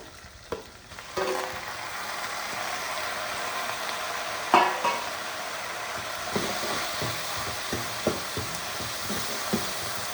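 Three large chopped tomatoes frying in a pan for a roasted-gram curry, a steady soft sizzle with a sharp clatter as they go in and repeated light scraping stirs, no voices.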